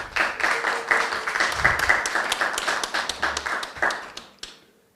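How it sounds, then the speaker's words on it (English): A panel discussion audience applauds the panelists with steady, moderately close clapping that gradually thins and stops after a final few claps. "I am sure I didn't hear that applause. Let's give the panelists a hand."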